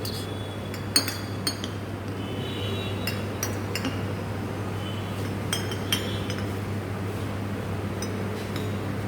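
Glass flasks holding dilutions are stirred in a lab, producing repeated light clinks and taps of glass over a steady low hum, close and fairly quiet, with no talking.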